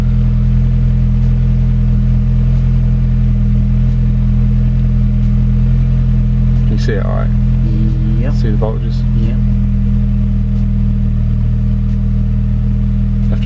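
A Mini Cooper engine idles steadily after running several minutes to warm up while its O2 sensors are checked for a P0420 fault, a constant low hum with a few clattering sounds midway as people talk briefly over it.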